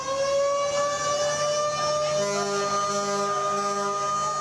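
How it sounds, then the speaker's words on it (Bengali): Several long, steady horn-like siren blasts from passenger launches leaving Sadarghat launch terminal in Dhaka sound together, loud and sustained, overlapping in a continuous drone with a second tone joining partway through. "সাইরেন বাজিয়ে সদরঘাট লঞ্চ টার্মিনাল থেকে ছেড়ে যায় একের পর এক লঞ্চ"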